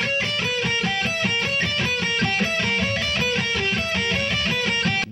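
Heavy distorted electric guitar plays a slow, palm-muted metal rhythm lick with chugging downstroke accents, dense and loud throughout, no voice over it.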